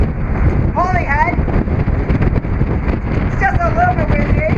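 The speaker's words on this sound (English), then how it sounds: "It's just a little bit windy, not too bad, fair weather." Gusty wind buffeting the microphone on the deck of a ferry leaving Holyhead, Wales, for Dublin, with a low engine rumble and brief gull-like calls.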